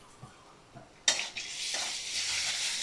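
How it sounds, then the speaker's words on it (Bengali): Onion frying in a pan with ginger garlic paste and cumin paste for chicken curry, quiet stirring taps at first, then a sudden loud sizzle that keeps hissing steadily. "পেঁয়াজটা লাল করে ভাজা করে নেব"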